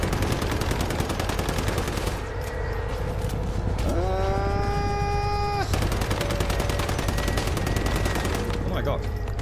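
Gunfire in the survival shooter Once Human: a dense, continuous stream of rapid shots running through the whole stretch, loud and near, with a pitched tone sliding in midway.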